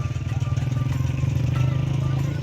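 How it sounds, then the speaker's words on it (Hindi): A motorbike rides along a hillside track at a picnic spot in Azad Kashmir, its engine a steady close drone that rises slightly as it passes, with no talk. "नवाज जा रहा है बाइक पे"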